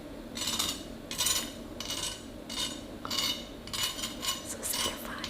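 Knife slicing through crispy air-fried pork belly, a series of bright crackling crunches at a regular pace, close and fairly quiet.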